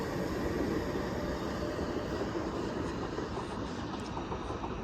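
A Class 357 electric train pulls out of Barking toward London Fenchurch Street, a fairly faint, steady rolling rumble with a soft wash of track noise and no voices.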